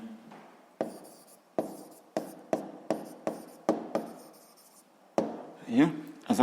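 A pen writes an answer by hand in a series of short, close scratchy strokes in a steady rhythm, with a voice speaking briefly near the end.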